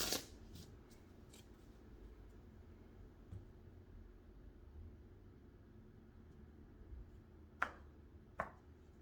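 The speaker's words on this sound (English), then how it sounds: "Okay, give it another shuffle and a cut," Tarot cards being shuffled and cut, quiet riffling and soft card slaps against a faint hiss, with a few sharper snaps near the start and two crisp slaps near the end.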